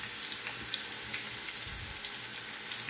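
Onion and garlic frying together in a pan, a steady, soft sizzle and crackle running continuously at close range with no talking.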